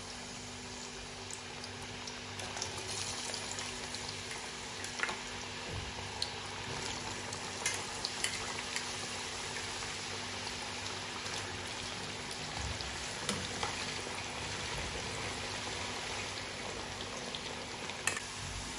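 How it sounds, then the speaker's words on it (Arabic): Potatoes frying in heated oil give a steady, dense crackling hiss that runs unbroken for the whole stretch, close up and even in level, with no talking over it. "أول شي بدنا نقلي البطاطا، بس حمي الزيت أكيد بنحط البطاطا"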